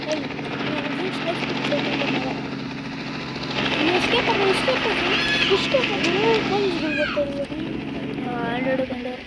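Police helicopter in a video game, a steady whirring rotor drone running continuously under chirpy game effects, with children talking over it throughout.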